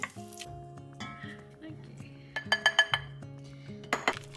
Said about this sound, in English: And then I'll take the ham out of the pot.